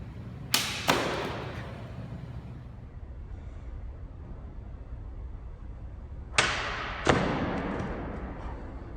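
A 13th-century arming sword slices through a cutting target in two pairs of sharp swishing impacts, a quick whoosh-and-strike near the start and another pair about six seconds later, each trailing off into quiet.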